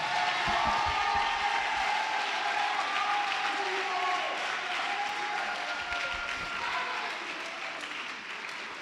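A church congregation applauds and cheers with sustained dense clapping and a crowd murmur that fade slightly toward the end. Some voices mix into the noise.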